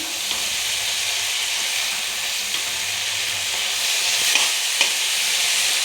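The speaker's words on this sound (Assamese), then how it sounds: "তেলত ভাজিছোঁ।" Green chillies, previously soaked in vinegar for pickle, frying in oil with a steady, close hissing sizzle and a few faint pops scattered throughout.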